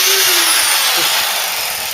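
A high-pitched power tool grinds the tops off steel rivets on a Ford Cortina, a loud, continuous, hissing screech held close for the whole stretch.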